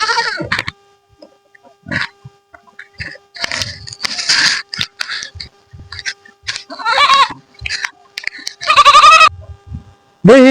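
Goat bleating loudly in a village yard, several wavering bleats, close and strident, interspersed with people talking between the calls.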